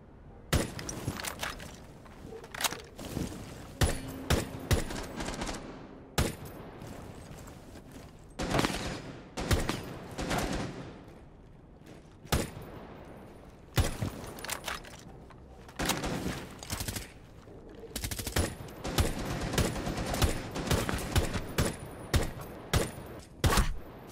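Rapid bursts of gunfire from a Rainbow Six Siege match, with a teammate taking the shots, break out again and again across the stretch: loud, dense volleys with short gaps, alongside breaking glass and other impacts.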